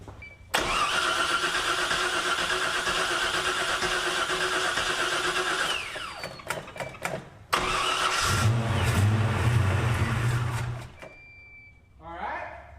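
A 1978 Pontiac Firebird engine cranking and firing, running rough and loud, then stumbling and cutting out before cranking and catching again with a deep rumble, while people talk nearby.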